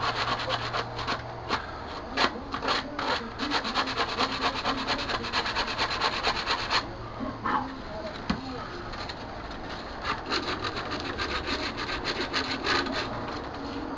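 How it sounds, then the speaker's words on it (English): Steady, repeated rasping strokes of sandpaper rubbing the inside of a handmade sumac wood flute by hand, close up, in an even back-and-forth rhythm with brief pauses. "I'm going to finish sanding these and we'll come back in a second."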